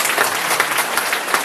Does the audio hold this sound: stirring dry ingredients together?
no